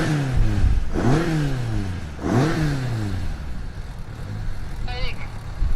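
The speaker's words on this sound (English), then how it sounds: "here he is in a little Ford Escort Mark II 2-litre, but making the best of it and really enjoying the action out there" A 2-litre Ford Escort Mark II rally car engine revs hard twice in quick succession, each rise in pitch sweeping up then dropping back, loud and close, with a lower engine drone continuing afterward.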